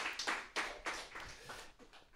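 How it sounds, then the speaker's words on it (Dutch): A small audience claps at a Dutch poetry and music evening, a short ragged burst of separate handclaps that thins and fades over about two seconds. "Ik wil even een daverend applaus voor storyteller Hans Molenaar."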